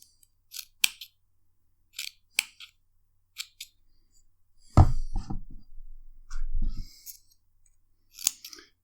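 Scissors snip vape cotton on the build deck of a Rath RDA, giving several crisp, close clicks spaced a second or so apart, broken by a brief stretch of rustling handling noise midway.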